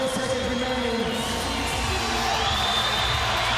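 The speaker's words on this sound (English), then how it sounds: "and the crowd trying to give him a hand." Spectators cheer at a CrossFit regional men's event, a dense, loud wash of crowd noise with shouts and whoops, steady throughout and mixed with indistinct voices.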